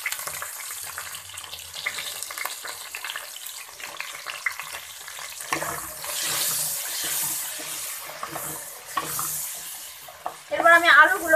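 Potatoes frying in a pan with a little salt and turmeric, a soft steady sizzle and stirring that grows louder in the later part, with brief scraping near the end.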